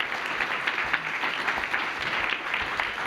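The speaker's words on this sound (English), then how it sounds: "An applause." Steady applause from a conference audience, dense even clapping that carries on throughout at a moderate level with no voices over it.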